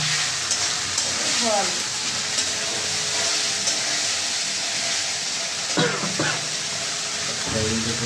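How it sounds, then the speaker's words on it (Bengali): Ginger and garlic frying in a pan give a steady, loud sizzling hiss that continues throughout, with brief chirps and scrapes of cooking activity mixed in. "আদা রসুনটা আগে ভাজে নিচ্ছি ভালো করে"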